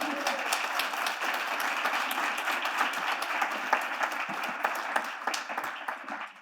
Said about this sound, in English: how about applause for all those people's effort?